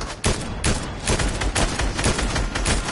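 Rapid pistol gunfire from a Fortnite match, a fast run of sharp, loud shots in quick succession, close and dense with little pause between them.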